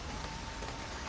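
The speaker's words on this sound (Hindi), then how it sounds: "ये हड से बारिश जो है, बारिश के नज़ारे" Rain falls steadily on a rural Indonesian village among coffee trees, a soft, even hiss heard fairly faintly and continuously with no voices.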